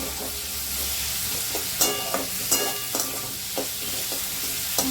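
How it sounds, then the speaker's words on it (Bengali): Onions frying in a pan of oil while cooking kabuli chickpeas, giving a steady close sizzle broken by repeated scraping stirs and clatters, with no one talking. "ভাজা ভাজা হয়ে গেছে পেঁয়াজটা"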